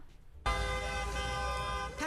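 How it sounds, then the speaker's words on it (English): A passing car lets out a single steady horn blast that starts abruptly and holds loud and close for about a second and a half, heard outside a Tesla dealership during a street protest with faint background noise. "Passers-by honk in support of..."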